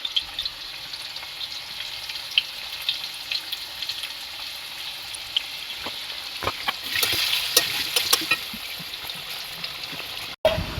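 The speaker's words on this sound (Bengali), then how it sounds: "আলু ভাজা হয়ে গেছে।" Potatoes seasoned with salt and turmeric fry and get stirred in a home kitchen pan, a steady soft sizzle with scraping stir strokes that grow busier near the end, no talking.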